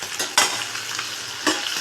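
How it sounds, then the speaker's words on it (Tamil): Egg and chicken fry together in a pan, a continuous sizzle broken by a few sharp scraping stirs of a spatula, close and moderately loud. "எக்கும் சிக்கனும் ஒன்றா சேர்த்து நல்லா குக் பண்ணிடுவோம்."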